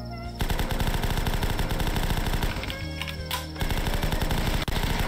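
Shotgun fire in the zombie-defence video game The Last Stand: loud, rapid, repeated blasts firing in a steady rhythm with only brief pauses.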